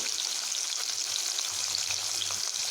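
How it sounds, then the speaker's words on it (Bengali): Fish frying in oil in a kadai, a steady close hiss and crackle of sizzling with scattered pops, continuous throughout with no talk. "এই মাছগুলো কড়াতে ছাড়ার পরে একটু ফুটতে থাকে এইভাবে"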